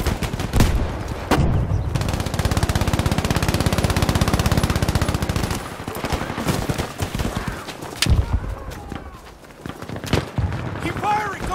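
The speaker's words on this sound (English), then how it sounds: "Keep firing. Don't let him up." Rapid machine-gun bursts and rifle fire in a Battlefield V combat scene, loud and sustained through most of the stretch, then thinning to scattered single shots and distant blasts, with voices shouting orders over the fighting.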